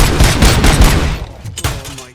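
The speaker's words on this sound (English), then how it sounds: "those UEDs shoot so beautifully" Rapid automatic gunfire from ED robots in the Robocop: Rogue City video game, loud dense bursts crackling for about a second and a half before thinning into a few scattered, quieter shots.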